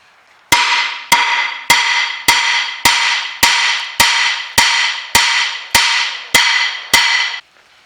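Eleven sharp hammer blows strike a rusty front brake disc on a 2011 Mk4 Ford Mondeo, each loud metallic clang ringing out before the next lands at a steady, even pace.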